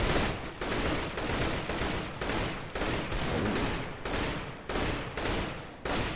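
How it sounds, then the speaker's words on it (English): An AK-47 fires in the Minecraft Mine Strike game in a steady run of loud, close bursts of shots, each burst broken by short gaps, heard alone without talk. "When I shoot with the AK-47, it seems to be a triple burst."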